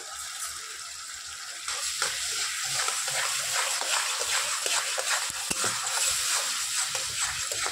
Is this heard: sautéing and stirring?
yes